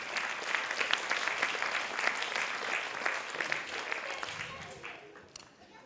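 A crowd at a children's health conference claps loudly in a dense, steady burst of applause that fades out toward the end.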